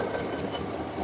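A train running on rails, a loud, close, continuous rumble with a steady rolling roar and no voices.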